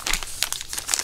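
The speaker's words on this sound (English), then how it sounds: "kind of a Ziploc type material. There is a zipper pouch this stuff comes in." Crisp crinkling of a Ziploc-type plastic zipper pouch holding a My Medic survival first aid kit, a handful of close, sharp rustles and crackles with no talk.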